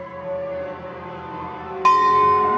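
A big brass bell is struck once during an orchestra performance, ringing out over sustained orchestral tones and decaying slowly.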